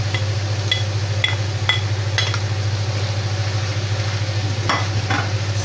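Champignon mushrooms sizzle steadily in a hot pan, with a utensil clinking against the pan in several sharp taps as they are stirred.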